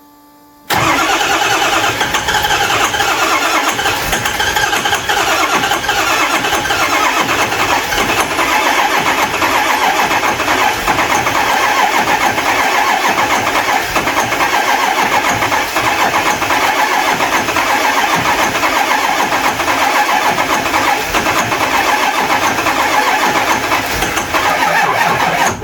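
A 6.0 Powerstroke diesel engine with a ZF6 transmission, long abandoned and now smoking, cranks on the starter continuously and loudly up close for over twenty seconds, with a rhythmic chugging churn that never fires.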